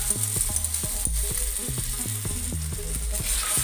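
White radish stir-fried in a pan as oyster sauce goes in, a constant close sizzle with rhythmic scraping and clacking of a spatula against the pan.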